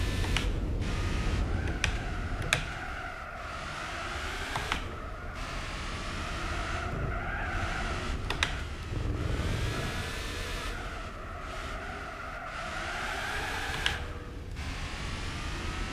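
A race car engine in Gran Turismo 4 roars continuously with shifting pitch as it revs up and down, punctuated by a few sharp clicks, with no talking.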